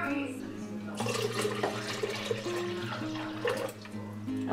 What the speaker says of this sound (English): I'm going to fill this can up with water and put it in as well.